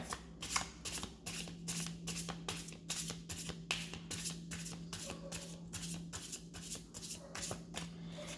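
A deck of tarot cards is shuffled by hand in a quiet room, with steady, rapid riffling and flicking strokes repeating close up with no talking.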